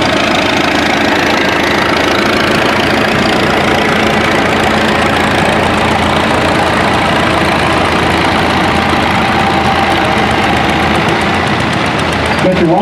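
A 1953 Farmall Super M tractor pulls a plow at a plow day event, its engine a loud, steady, close running drone throughout, with faint talk from an announcer over it.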